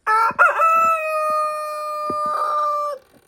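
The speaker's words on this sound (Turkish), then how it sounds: "Horozumuz atıyor" A rooster lets out one long, loud crow close by in snow, the call held steady for a couple of seconds before cutting off.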